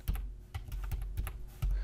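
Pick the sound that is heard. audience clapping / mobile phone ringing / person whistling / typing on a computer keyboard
typing on a computer keyboard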